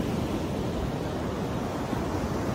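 Ocean surf washing onto a beach, a dense, steady broadband roar with no distinct breaks, mixed with some wind noise.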